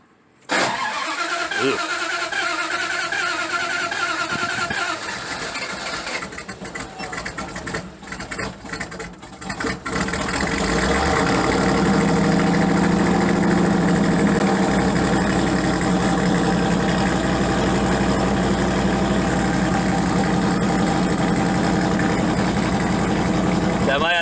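A car engine cranks unevenly for several seconds, stumbling and sputtering, then catches and settles into a steady, loud idle close by; a person makes a brief exclamation during the cranking.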